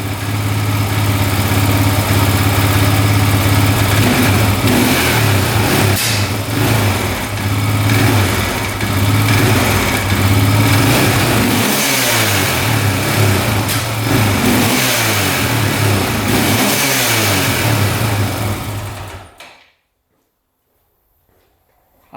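A Honda 400EX quad engine runs loud and close for nearly twenty seconds, its revs surging and bogging down in repeated uneven swells before it suddenly cuts out into silence.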